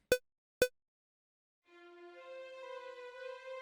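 Two sharp clicks come first, then after a short silence a sustained legato line of violins and flute enters softly and holds steady to the end.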